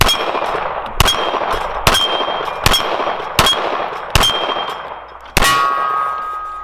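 Rounds from a case-colored Standard Manufacturing 1911 pistol strike 8-inch steel plates at 12 yards: seven sharp metallic clangs at a brisk, fairly even pace, each ringing briefly before the next, the last ring lingering longest.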